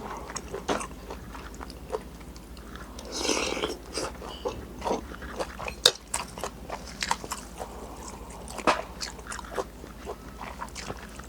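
Crispy fried pork salad is bitten and chewed close up, with a run of crunchy bites and wet chewing at an uneven pace, moderately loud, and no talking.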